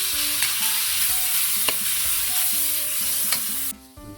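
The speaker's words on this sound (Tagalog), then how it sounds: "Tayo ng mantika. Tayo ng bawang, sibuyas, kamatis." Garlic, onion and tomato sauté in hot oil for shrimp sinigang, with a steady close sizzle and scattered stirring clicks; the sizzle drops away sharply just before the end.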